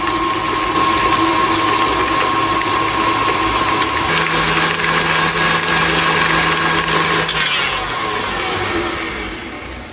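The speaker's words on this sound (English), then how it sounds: "I'm now going to continue mixing while adding in 1 egg at a time" An electric mixer beating butter, sugar and eggs for a cookies and cream cake, a loud continuous motor whir that shifts pitch partway through and winds down at the end.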